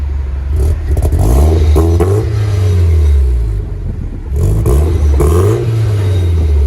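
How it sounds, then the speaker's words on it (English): A Toyota MR2 engine revs close by in two bursts, each rising sharply and falling back with a deep, rumbling exhaust, separated by a short dip to idle. "Toyota MR2. Yeah, little by little. Give it gas."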